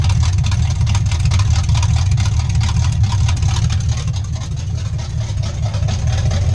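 A 1969 C20/C10 truck with straight headers idles loud and close, its engine rumbling in a steady, choppy low throb throughout.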